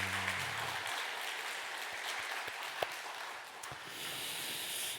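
A church congregation at a Sunday worship service claps vigorously, a steady, fairly distant roll of applause in a reverberant hall, with a low hum fading at the start and a brief sharp knock midway.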